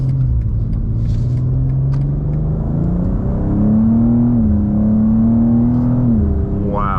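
A 2024 Audi RS3 engine rumbles loudly and climbs steadily in pitch as it accelerates hard, the roar building and then easing off near the end.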